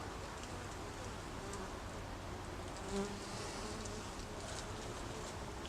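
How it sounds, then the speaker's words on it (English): Honeybees at a first hive inspection in an Alaskan rainforest setting give off a dense, steady buzz that fills the whole stretch at moderate loudness, with no speech over it. "so you can kind of get an idea of scale of how big the bees are"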